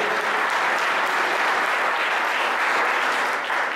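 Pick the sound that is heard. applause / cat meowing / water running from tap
applause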